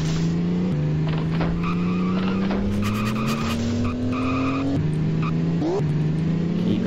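A car in the video game On The Run skids into a spin with long, steady tire squeal over a droning engine whose pitch climbs, then dips and rises again, loud and close with no talking.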